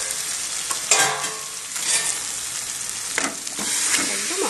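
Meat hits hot fried masala of green chilies in a pan and is stirred, making a loud, continuous sizzle with scraping strokes, close up and without talk.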